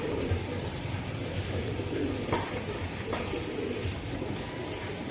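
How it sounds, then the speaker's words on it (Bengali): Racing pigeons at a club loft coo in soft, low repeated calls amid a constant dense background murmur, close but not loud, with no clear talk. "বাহ, এই যে কবুতর,"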